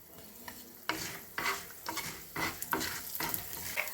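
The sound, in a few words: mustard seeds, chana dal and urad dal sizzling in oil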